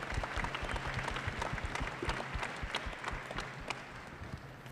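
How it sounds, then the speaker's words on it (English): Audience applause at the opening ceremony of the 2019 Brier curling championship: dense, steady clapping from a large indoor crowd, sustained at even loudness throughout with no speech over it. "let's applaud her and her team for their success this year"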